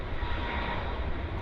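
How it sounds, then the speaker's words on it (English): A jet airliner roars on takeoff at Vancouver Airport, a steady heavy engine rumble heard from a plane-spotting position, loud and continuous without voices. "Nice takeoff."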